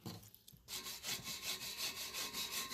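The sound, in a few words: sanding an old tractor muffler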